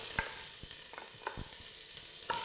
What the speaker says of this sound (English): I'll just put my onions and fry them.